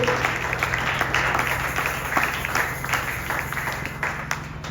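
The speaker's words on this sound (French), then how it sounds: "tobete likolo maboko." Church congregation clapping hands together in a dense, continuous burst of applause lasting several seconds, with no speech over it.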